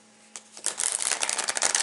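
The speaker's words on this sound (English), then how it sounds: "So I'm going to shuffle the spellcasting oracle cards" Spellcasting oracle cards being shuffled by hand, a short quiet pause then a rapid papery riffle of many card flicks, close and crisp, rising into a dense rustling run.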